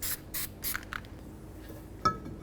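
Copper anti-seize sprayed from an aerosol can onto the mating surface of a 2009-18 Ram 1500 axle during emergency brake shoe work: three short hissing bursts, then a few faint sprays and a small clank, close and quiet.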